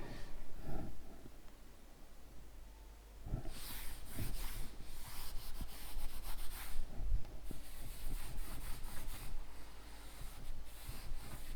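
Rubbing out writing on a classroom board during a geography lesson gives a steady scrubbing, rasping wipe that starts after a quiet moment and carries on in repeated close strokes.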